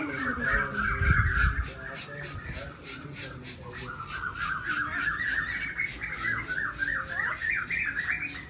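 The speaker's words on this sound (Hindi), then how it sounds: "वाह, बुलबुल बोल रही है।" A bulbul calls from a mango tree outdoors, with repeated bright chirping notes in a steady rhythm over several seconds and a brief low voice near the start.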